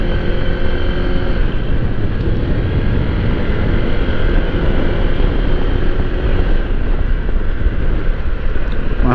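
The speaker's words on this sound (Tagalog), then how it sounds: "Ang hangin-hangin." Wind buffeting a microphone during a night motorcycle ride, a dense, constant low roar and rushing noise that stays loud and steady throughout with no clear breaks.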